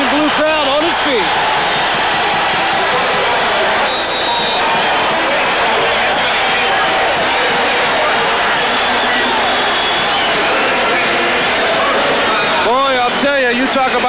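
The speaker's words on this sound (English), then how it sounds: "You can hear this Illini crowd" Arena crowd at an Illinois basketball game roaring and cheering loudly and continuously, a dense wall of noise with a commentator's voice and sneaker squeaks rising through it.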